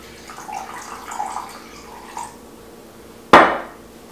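Half a cup of cider vinegar is poured into venison barbacoa, a soft, faint splashing trickle for about two seconds, followed by a single sharp clatter of a container set down.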